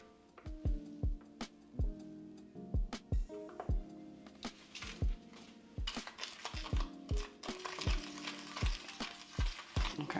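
Hair bleach powder and 20 volume developer being stirred in a bowl with a tint brush, a steady run of sharp, close taps and scrapes with a faint ringing tone.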